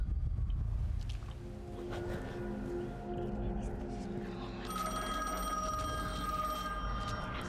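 Telephone ringing inside The Medium horror video game, a sustained electronic bell tone under dense game ambience and music, with someone talking over it.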